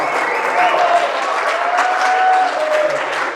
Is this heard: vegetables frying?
no